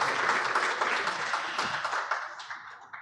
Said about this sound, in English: Can we clap for the ladies that just left the stage?